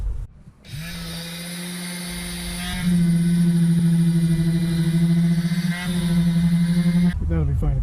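A power sander whines steadily at a high pitch on a wooden guitar body, rising in intensity midway and holding a loud, continuous drone until it cuts off near the end.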